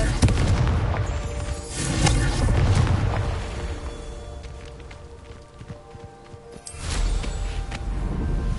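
Confringo explosive spell blasts in Hogwarts Legacy, a pair of heavy booming detonations with rumbling tails, the second arriving after a quieter lull, loud and close.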